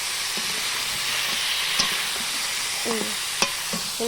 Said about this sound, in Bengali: আগে একটুখানি চিকেনটা আমি বাবা ভেজে নিচ্ছি